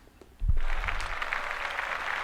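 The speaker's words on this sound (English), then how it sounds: "Kevin Hart, round of applause" Applause for Kevin Hart bursts in suddenly after a quiet moment and holds as a dense, steady wash of clapping from a crowd, fairly loud and sustained to the end.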